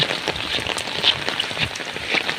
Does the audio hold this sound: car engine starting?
no